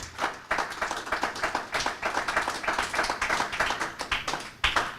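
A church congregation claps together in praise during a Spanish-language service, a dense, lively burst of hand claps that swells and sustains for several seconds before a final sharp clap.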